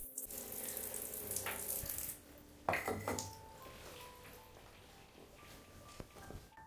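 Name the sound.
water running from a shower in an abandoned house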